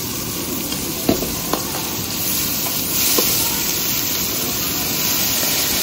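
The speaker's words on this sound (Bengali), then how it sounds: "ভাজা ভাজা হয়ে গেছে, এবার দিয়ে দেবো বাঁধাকপি।" Large chillies fry in a hot pan with a loud, steady sizzle and hiss, broken by a couple of sharp clicks from the spatula.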